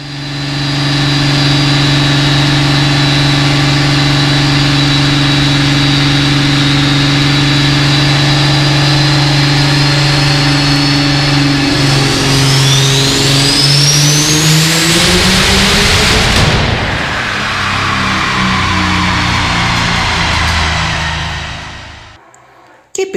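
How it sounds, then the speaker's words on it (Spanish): A large engine is revved hard, holding a loud steady roar before pitch climbs sharply, then breaks into rough, uneven pounding and cuts out near the end. "¿Qué pedazo de motor?"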